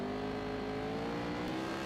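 Steady, loud engine drone holding a constant pitch, several superbike racing motorcycle engines idling and revving together at close range on the starting grid with no pauses.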